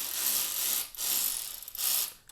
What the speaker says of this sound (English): go get an electric ratchet or something, and then you could just sneak it in and break it loose